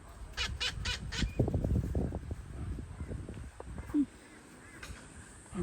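A king parrot makes harsh, scratchy squawks and rasping calls in a quick irregular burst, close by over outdoor background noise, then trails off into a few scattered softer sounds.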